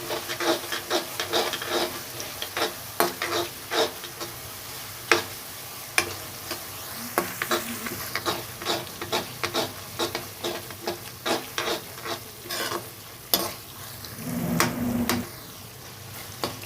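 Chopped tomatoes cook in a pan with fried masala and oil for a drumstick-flower sabzi. Steady sizzling runs under repeated close scraping stir strokes throughout, with no talking.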